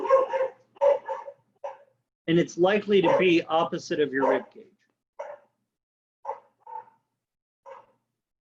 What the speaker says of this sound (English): Apologies for the barky dog.